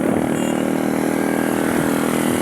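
A cheap motorcycle's engine revs hard while being ridden, a loud buzzing whine that holds steady and close throughout.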